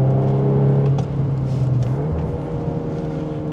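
A VW Golf 8R engine holds a steady rev, then the pitch dips and settles into a lower drone as the car slides on worn summer tyres along a country road, heard from inside the cabin.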